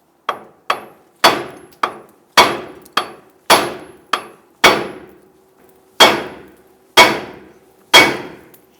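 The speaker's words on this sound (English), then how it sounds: "I'm going to go ahead and use our hammer and strike the knuckle right here" A hammer strikes the steel steering knuckle of a 2000-2006 Toyota Tundra to free the tie rod, about fourteen sharp, loud metallic bangs in an uneven rhythm, each ringing briefly before the next.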